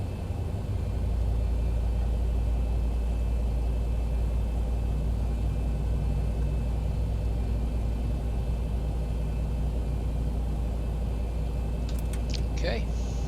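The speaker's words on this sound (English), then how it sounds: "we'll start with engine number 2. N1 spooling up" Aircraft engine number 2 starting on a plane bound for Atlantic City, a continuous low rumble and steady engine drone that holds throughout, with voices speaking over it.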